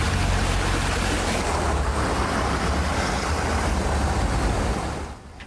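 Floodwater rushes loudly and continuously through streets turned into swollen rivers after heavy rain in Pianezza, a dense unbroken roar that eases slightly at the very end.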